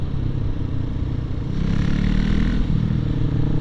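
A Husqvarna Svartpilen 701 motorcycle is ridden hard into corners, its engine a loud, continuous rough roar with wind noise, swelling slightly midway.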